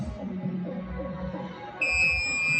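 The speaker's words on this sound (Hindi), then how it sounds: "ऑटोमेटिक 35 होने के बाद ये बीप बचने लगेगा" A continuous high electronic beep from an automatic tyre inflator reaching its set pressure starts partway through, sounding over the inflator's motor hum and lingering to the end.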